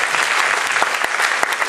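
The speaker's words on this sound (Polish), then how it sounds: "Wielkie brawa dla pana Artura." A cabaret audience claps steadily for a volunteer named Artur called up from the crowd, a dense, sustained patter of many hands close by with no talking over it.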